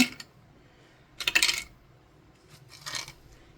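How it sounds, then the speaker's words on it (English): Dice clatter and rattle onto a tabletop in two quick bursts, close and bright, with quiet between. "So I can use these dice from Erica"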